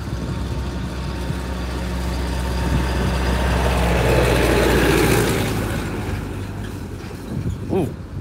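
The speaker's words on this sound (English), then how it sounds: "There's a great big tractor coming out." A big tractor passes over a level crossing, its engine a low, loud rumble that swells as it goes by, then fades, with brief knocks near the end and no talk.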